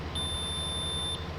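A combine's low hydraulic pressure warning in Farming Simulator 19 sounds as one steady high electronic beep lasting about a second, over a constant low engine rumble.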